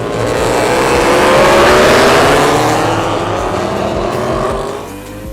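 Racing vehicles roar past on a race track, one loud close engine rising and falling in pitch as it sweeps by, then fading slightly at the end.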